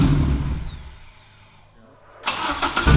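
A K24 engine in an AE86 touring car build cranks and catches, a rough loud burst at the start, a lull, then firing up into a strong close idle roar.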